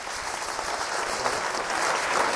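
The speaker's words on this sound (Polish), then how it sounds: "Brawa dla agenta." Audience at a cabaret performance applauds steadily, a dense, even wash of many hands clapping throughout with no voices on top.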